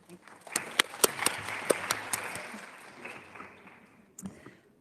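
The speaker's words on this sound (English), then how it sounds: "A warm applause and welcome here." Scattered claps from a small audience, a few sharp distinct hand claps over a soft murmur, fading out before a brief final burst.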